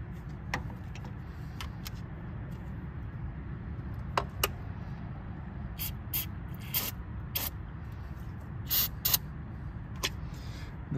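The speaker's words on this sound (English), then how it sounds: "I'm gonna go ahead and kind of spray them off with some brake cleaner here." A hissing brake cleaner aerosol comes in short repeated bursts on a 1963 AMC Rambler over a low rumbling background, with a few light clicks and clanks between sprays.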